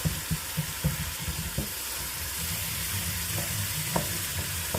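Tomato beef madras sizzles and fries steadily in a pan, with several knocks and scrapes of stirring in the first seconds, then a continuous close frying hiss.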